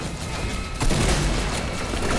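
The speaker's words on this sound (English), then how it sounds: "Genuinely, there's too much bullet fire." Dense video game gunfire fills the scene, a sustained barrage of overlapping shots that swells sharply midway and stays loud with heavy low booms to the end, no voices present.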